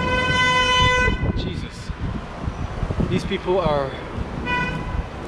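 Vehicle horns honk on a city street in long sustained blasts at the start and again near the end, while someone talks over them.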